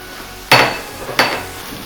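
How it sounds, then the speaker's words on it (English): Minced beef drops into a pan with hot olive oil, two loud bursts of sizzling about half a second apart, each fading quickly, close up with no talk. "And we'll add in the meat."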